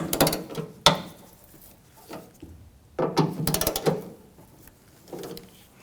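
Ratchet wrench snugging up tailgate hinge bolts on a 1997-2003 Ford F-150, a few close bursts of rapid clicking separated by brief pauses.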